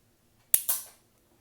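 A small Lego model EMBR gun fires with a sharp, close snap, a second crack following a split second later before quiet returns.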